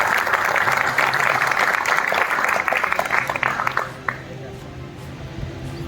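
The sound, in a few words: applause from the audience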